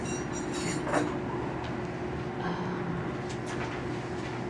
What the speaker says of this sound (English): The train rumbled and tumbled through the night lights of Kansas